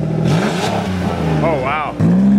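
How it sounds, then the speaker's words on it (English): A car engine with its exhaust cut off revs up loudly and raw, surging and falling in short bursts. Voices talk over the engine. "we just cut off the exhaust. Hey, give it a little rev here for the camera."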